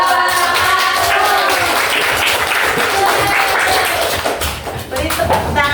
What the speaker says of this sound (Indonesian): Beri tepuk tangan lagi untuk semua kelompok.